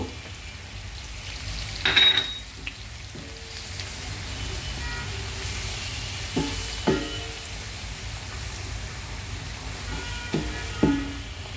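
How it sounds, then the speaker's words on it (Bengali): Chili powder and spices frying in oil with onions and whole garam masala, a soft continuous sizzle close by with occasional sharper clinks and stirring scrapes of a utensil against the pan. "এখন দিয়ে দিব মরিচ পাউডারগুলো দিয়ে ভেজে নিব"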